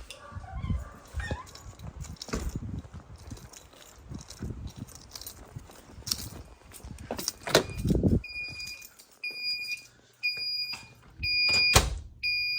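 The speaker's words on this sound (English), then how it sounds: "Fire alarm in-house." A house fire alarm system in full alarm, with repeated electronic beeping tones sounding in bursts toward the end, preceded by footsteps, shuffling and a dog nearby.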